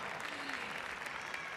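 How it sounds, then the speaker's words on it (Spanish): Applause from a crowd at a body painting contest in Las Palmas de Gran Canaria, a dense steady patter of clapping heard from some distance throughout. "Fuerte aplauso."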